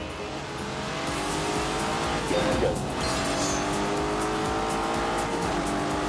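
A Lamborghini with a V8 engine drives in The Grand Tour video game, its engine droning steadily with tire squeal and a passing surge, loud and continuous, with a single brief spoken word near the start.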